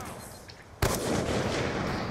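A single sharp gunshot in Call of Duty Black Ops 2 cracks out near, followed by a sustained noisy game ambience; voices talk around it.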